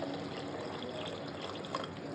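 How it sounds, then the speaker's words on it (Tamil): Water is poured into a pan of egg gravy masala as it cooks, a soft, steady liquid trickle and splash heard faintly and close up, with no talking. "இந்த டைம் வந்து நான் தண்ணி ஊற்றிக்க போகிறேன்"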